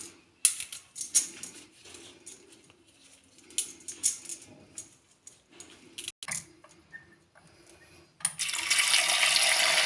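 Kohlrabi leaves are washed by hand, with scattered splashes and clinks in a sink, ending in a steady rush of running tap water.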